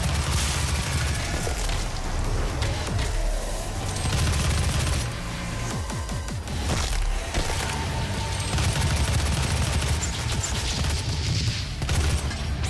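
Gunfire aimed at a bomb in the shooter DOOM, a loud, continuous barrage of shots and impacts layered with mechanical clatter and booms, with no voices.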